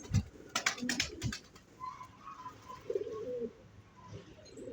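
Pigeons coo softly in a pigeon loft, their low calls faint against a room background, with a few clicks and rustles at the start.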